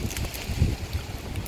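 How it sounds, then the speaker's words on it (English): Outdoor wind in Melbourne buffets a microphone, a continuous low rumbling roar with gusty swells and no speech. "We have a bit of a wind,"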